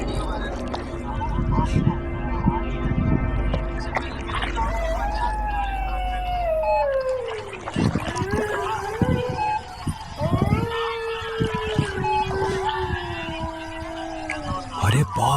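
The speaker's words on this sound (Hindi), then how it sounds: "चारों तरफ सियारों की डरावनी आवाज गूंज रही थी।" Jackals howl at night near a cremation ground, long wavering cries that glide up and down in pitch, several overlapping, over a low rumbling drone that fades halfway through.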